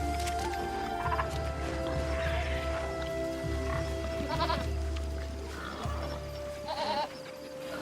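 Goats bleat amid a crowd of farm animals in a peaceful village enclosure in Assassin's Creed Shadows, with repeated short bleats over a steady low game ambience and a constant background hum.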